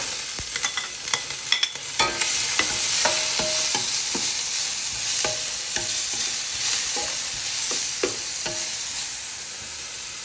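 Chopped onions fry with ginger, garlic and green chillies in a pan for chicken fried rice, making a loud, continuous sizzle with repeated sharp spatula scrapes and clicks near at hand.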